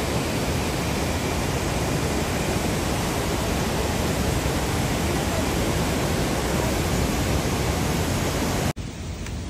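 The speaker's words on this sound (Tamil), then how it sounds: "இந்த ஃபால்ஸ் கிட்ட பாருங்கள்" A waterfall near a hillside of kurinji flowers roars as a loud, steady, dense wash of broadband noise, unbroken until a sudden drop near the end.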